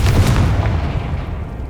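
Confringo blasting spell explosion in the Hogwarts Legacy video game: a loud, heavy boom with a deep rumbling low end that decays over under two seconds.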